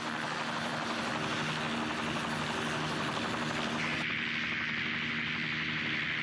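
A Hiller coaxial rotor helicopter from the 1940s in flight, giving a steady, loud rotor and engine drone that holds constant throughout without pause.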